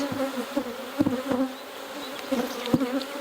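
Honey bees buzz steadily around an open hive being inspected late in the season, a close, continuous hum with brief louder swells as individual bees pass near.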